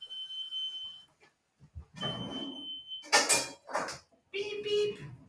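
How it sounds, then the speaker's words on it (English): A smoke alarm sounds a high, steady electronic tone twice, with kitchen clatter and handling noises between and after. "Beep beep"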